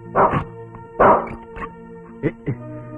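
A dog gives several barks in a house at night, two strong close bursts followed by a few shorter, quieter yaps.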